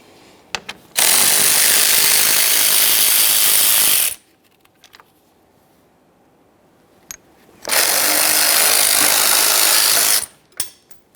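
Power tool backing out the two 8mm-headed bolts holding the cooling fan on a 2007-2017 Jeep Wrangler 3.6L V6, heard as two loud sustained whirring bursts of about three seconds each, separated by a quiet pause.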